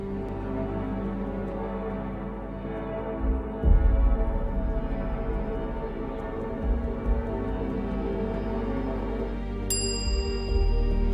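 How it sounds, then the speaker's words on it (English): Sustained metallic ringing of a silver bell with layered resonant tones, then a bright, clear bell strike near the end; no voices. "the sound of a silver bell has resonated with a power beyond its simple chime"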